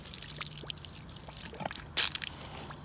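Water runs from an outdoor tap, a soft uneven splashing and trickling with a louder gush near the end.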